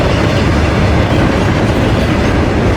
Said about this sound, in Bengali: বর্তমানে এখান দিয়ে একটা মালগাড়ি যাচ্ছে।